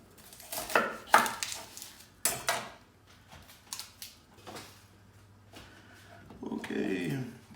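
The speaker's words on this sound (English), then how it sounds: "just while I'm cutting an onion" A knife chopping an onion on a board with the heat on low, giving a few irregular sharp cuts in quick clusters among quieter kitchen handling noises, close and moderately loud.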